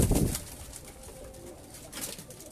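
Pigeons at a Lahore breeder's loft, including fancy varieties, give soft low coos and wing rustles, strongest at the start and again near the end, close by with no talk.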